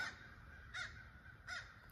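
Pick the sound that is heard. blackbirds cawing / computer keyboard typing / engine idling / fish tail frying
blackbirds cawing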